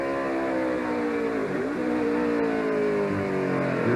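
Kyle Petty's stock car engine heard onboard, loud and continuous, its pitch sweeping down through a downshift and then climbing again as it revs back up.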